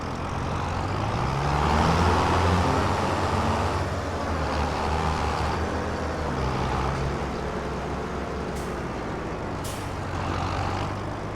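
A farm machine in Farming Simulator 25 drives steadily toward a field, its engine a continuous low rumble with a brief hiss of air release near the end.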